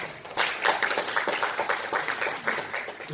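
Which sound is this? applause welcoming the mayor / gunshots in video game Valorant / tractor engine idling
applause welcoming the mayor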